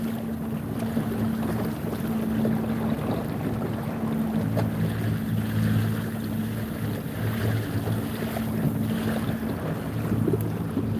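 A boat engine hums steadily across the water as a small boat and a bigger boat pass, a low continuous drone mixed with wind and gentle water noise.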